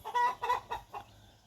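Hybrid laying hens cluck in a quick run of four or five close, loud calls, fading out at the end.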